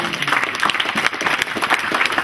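A church congregation applauding during a French sermon, a loud, dense burst of clapping that fills the short stretch without a break.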